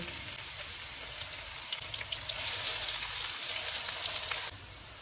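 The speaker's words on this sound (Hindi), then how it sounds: "एक प्याज डालेंगे और गोल्डन फ्राई करेंगे।" A chopped onion frying in hot oil with cumin seeds for chicken pakora pulao: a close, steady crackling sizzle that swells louder midway, then drops off abruptly near the end.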